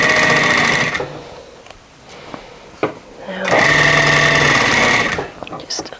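A sewing machine stitches a small cuff hem in two loud close bursts separated by a quieter pause with knocks, while a voice talks throughout.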